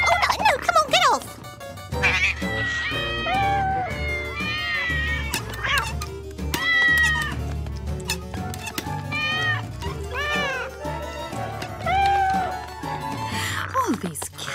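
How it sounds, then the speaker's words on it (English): Cartoon cats meow and yowl repeatedly in short pitched cries, loud and close, mixed with a character's voice. "Oh, these cats."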